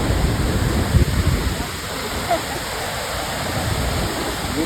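Steady rushing water of Khoupum Waterfall roars continuously close by, a broad hiss with faint low rumbles and no talk.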